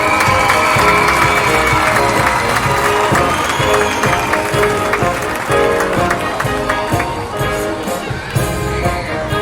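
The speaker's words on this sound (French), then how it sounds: "Applaudissez bien fort!" A gala audience at the Ursulines event applauds loudly, with steady clapping and some cheering filling the hall and fading slightly near the end, while music carries on underneath.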